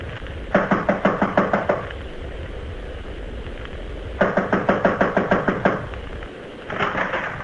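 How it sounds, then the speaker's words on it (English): Knuckles rapping on an apartment door: three bursts of quick, evenly spaced knocks, loud and close, separated by short pauses, with no voices. "I'll knock."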